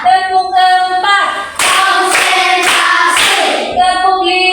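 Children in a classroom clap their hands together in a rhythmic group pattern, four loud sharp claps in even succession after a sustained chanted tone, with voices calling out.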